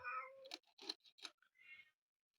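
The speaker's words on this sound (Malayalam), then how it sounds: "വേറെ പൂച്ചയുടെ ഒച്ച കേക്കുന്നുണ്ടല്ലോ ഇന്ന്" A cat meows several times in short separate calls, close and clear against a quiet background with no talking.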